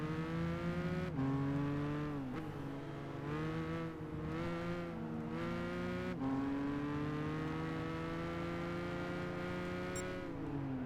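A race car engine in Gran Turismo 5 drones loudly and steadily, its pitch climbing through each gear and dropping at several shifts, with no voices over it.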